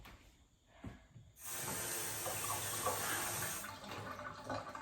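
Tap water runs in a renovated fixer-upper kitchen, a steady close rush that switches on after a brief quiet start with a faint knock, then flows evenly before easing slightly.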